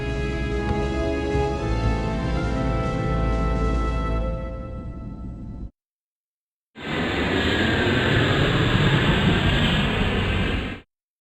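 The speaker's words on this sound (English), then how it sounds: "I want a magnum launch. All fighters up." Fighter spacecraft launch in the Wing Commander film as a loud, dense roaring blast that cuts off abruptly, falls silent for a moment, then returns as a second sustained roar before stopping sharply.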